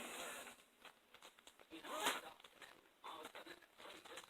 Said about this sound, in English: The zipper don't work on that one.